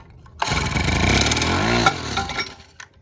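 Honda tiller engine roars at wide open throttle after starting, a loud steady near-field drone with shifting harmonics that briefly surges near the end before dropping back.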